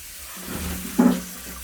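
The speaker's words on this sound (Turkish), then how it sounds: "Bakınız suyumuz hemen çalışmaya ve akmaya başladı" Water begins running from a tap after a smart water meter is switched to fire mode, a soft, close rushing flow that swells briefly before settling.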